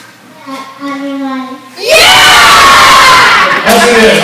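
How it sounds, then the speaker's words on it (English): A pee wee youth hockey team at an awards banquet bursts into a loud, sustained group shout after one person calls out the chant. The crowd of children's voices stays at full volume until the end. "he'd give it one last chant to fire him up"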